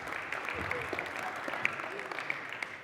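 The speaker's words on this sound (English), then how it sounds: "So give them a round of applause this morning." A church congregation applauds in a steady, moderately distant wash of clapping that carries through without a break.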